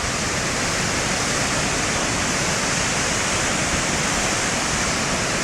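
Floodwater of the Clutha River in central Otago, New Zealand, roars through dam spillways in a loud, steady, broadband rush that never lets up, close by and with no voices over it.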